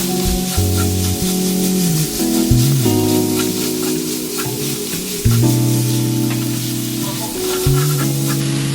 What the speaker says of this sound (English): Now you want to put in your zucchini and stir fry for about 30 seconds.